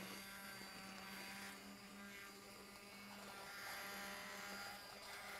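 Immersion blender whirring steadily in a pot of tomato soup, a faint, even motor whine with slight shifts in pitch as it purees, no talking.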